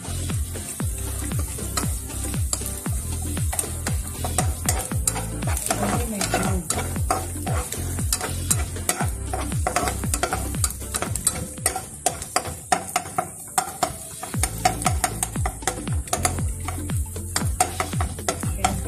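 Garlic frying in a pan for kanto-style tapsilog, with steady close sizzling broken by rapid rhythmic stirring and scraping strokes throughout.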